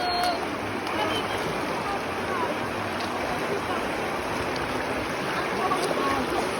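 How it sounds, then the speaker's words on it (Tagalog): A strong river current rushes at Daraitan river in Tanay, Rizal, producing a continuous loud wash of flowing water with voices faintly mixed in. "Ang lakas ng agos."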